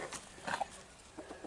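A Sussex chicken in a backyard poultry flock gives a few short, soft clucks in quick bursts, heard close by against quiet farmyard background noise.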